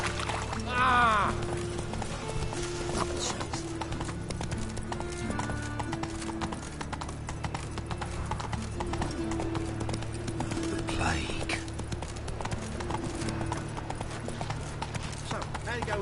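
Roach the horse gallops in The Witcher 3, hooves beating a steady rapid clip-clop with a brief whinny near the start, while someone talks over the game sound.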